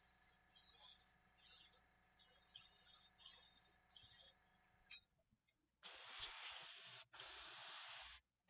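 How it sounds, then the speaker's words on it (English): Black spray paint hisses onto a massive Smaug dragon model in repeated short bursts, then two longer sustained sprays, close and fairly quiet. "I think I'm spraying black stuff again"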